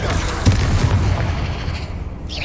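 A Confringo blasting spell in Hogwarts Legacy explodes with a deep boom and a short burst of rumbling impact, amid game combat noise with a voice present.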